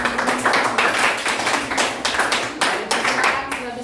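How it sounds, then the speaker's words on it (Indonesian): A room full of people applauds, steady clapping that holds for several seconds with faint voices underneath. "silakan beri tepuk tangan."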